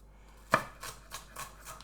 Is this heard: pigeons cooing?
no